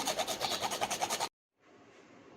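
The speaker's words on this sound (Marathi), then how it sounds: "पूर्णामध्ये जायफळ टाकते किसून" Whole nutmeg is grated by hand into sweet chana dal lentil filling for puran poli, giving rapid rhythmic scraping strokes at close range that stop abruptly and are followed by quiet.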